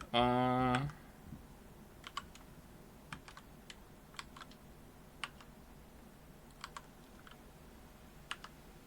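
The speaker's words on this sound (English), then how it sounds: "let's not type the password into Twitch chat" Sparse, crisp keystrokes from someone entering a password on a computer keyboard, single clicks spaced a second or so apart after a brief loud tonal burst at the start, over a quiet room hum.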